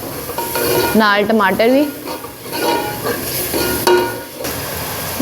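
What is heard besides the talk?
ginger, onion and green chilies sizzling in a pan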